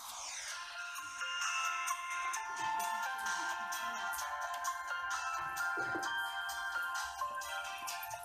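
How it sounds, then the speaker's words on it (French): A Samsung Galaxy J5 phone ringtone plays alone at a steady moderate level, a bright melodic tone with a repeating pattern that continues throughout. "Voilà, sonnerie."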